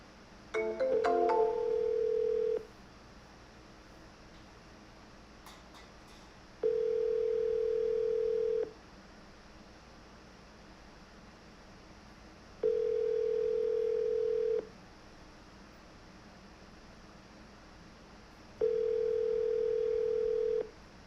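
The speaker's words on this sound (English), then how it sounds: "I'm just going to give her a call and see if I can still reach out to her." Telephone ringback tone while a call is placed: four steady, clear pulses about two seconds long, repeating every six seconds over a faint background hiss, with no talking.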